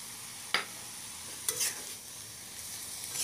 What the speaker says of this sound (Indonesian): Setelah kita masukkan semua, kita aduk sampai merata.